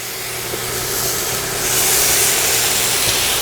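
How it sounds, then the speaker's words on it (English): Steaks sear in a hot pan with a steady, close hiss of sizzling fat that swells louder partway through and then holds. "start adding our steaks in the pan once it gets up to temperature"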